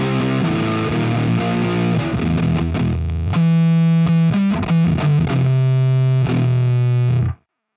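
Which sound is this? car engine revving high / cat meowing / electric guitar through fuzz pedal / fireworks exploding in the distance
electric guitar through fuzz pedal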